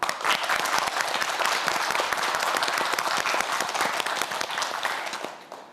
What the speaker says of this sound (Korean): 우리 학생들 힘내라고 가장 크게 큰 박수 부탁드립니다.